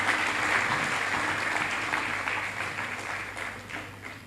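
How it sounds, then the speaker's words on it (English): Audience at the Tony Elumelu Foundation Forum gives a resounding round of applause, a dense, sustained wash of many hands clapping in a large hall, loud at first and slowly tapering off. "give yourselves a resounding round of applause for being here today"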